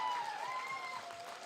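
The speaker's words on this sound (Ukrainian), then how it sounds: "Ще раз, Ірина Сек, ваші оплески" A short burst of applause from a crowd, steady clapping fading slightly, with a faint tonal hum running underneath.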